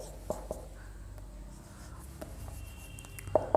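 Pen writing out a trigonometry maths solution on paper, a soft faint scratching with a few sharper taps, close and quiet.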